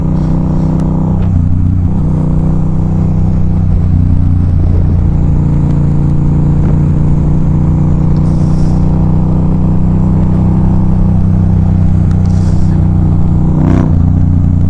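A Yamaha FZ-07 motorcycle engine drones loud and close while being ridden, with steady low rumble, occasional revving swells and wind buffeting, and no voices.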